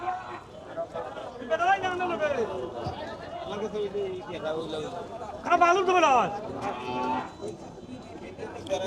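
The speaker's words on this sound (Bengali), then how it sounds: "ও একটা গরু আছে লালের মাঝে দেশি গরু" Several cows, including a red local breed, moo nearby amid a busy crowd at a cattle market in Sunamganj, Sylhet, their drawn-out calls rising over steady chatter of people talking.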